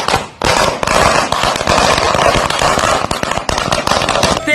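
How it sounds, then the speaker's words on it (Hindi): Firecrackers set off in India during lockdown, a dense, loud, continuous crackle of rapid bangs with no let-up, near and harsh. "भाई दारू की दुकान खुलने के बाद पटाखे जलाए जा रहे।"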